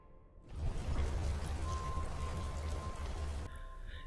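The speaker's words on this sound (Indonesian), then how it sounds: "Di hari kelima, terlihat air hujan membasahi gubuknya mereka." Rain pours steadily onto a hut, a dense, loud hiss of falling water that starts abruptly and stays constant, then cuts off near the end.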